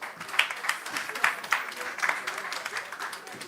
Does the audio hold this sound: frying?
no